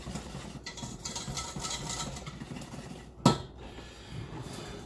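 A utensil scrapes and clinks around a pan in a couple of quick stirring strokes while chicken cordon bleu is being cooked, close and moderately loud, with one sharper knock against the pan partway through.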